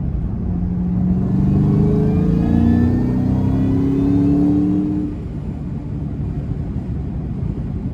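A supercharged 500 HP Terminator SVT Cobra engine revs up with a rising whine and rumble, holds high for a few seconds, then drops back to a lower steady drone, loud and close.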